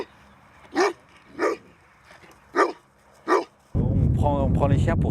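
Patou livestock guardian dogs, bred to protect a flock, give four evenly spaced loud barks, then a burst of overlapping barking and yelping under loud wind or handling noise.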